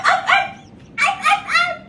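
A toy doll gives two quick pairs of sharp, bright, electronic-sounding yips, like a small dog barking, with short gaps between them and nothing else audible.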